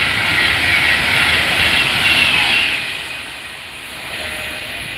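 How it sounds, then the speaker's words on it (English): A Pendolino express train rushes past at a station on the Trent Valley line, a loud sustained roar and hiss of wheels and motors that eases off toward the end. "Oh, here comes another Pendolino."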